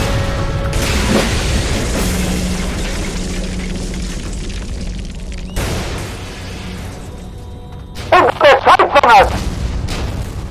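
Gunfire and explosions in the WWII tank game Codename Panzer at El Alamein, with a loud rumbling battle din, heavy booms near the start and middle, and a rapid burst of gunfire near the end, under shouted voices.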